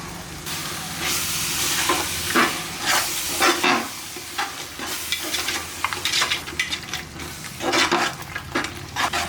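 Coriander and mint leaves sautéing in oil for an Ambur mutton biryani: a steady close sizzle with repeated scraping and tossing strokes of a spoon in the pan, irregular in rhythm and without talk.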